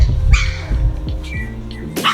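A fawn puppy in a young litter barks and yips in quick, high, close bursts, a few sharp yaps with whiny edges tumbling over each other against other puppy noises.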